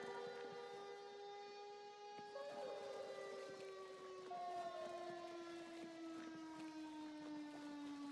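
A long mechanical siren in the video game Mouthwashing wails steadily, its tones slowly sliding downward and stepping between pitches, loud and sustained with no talk over it.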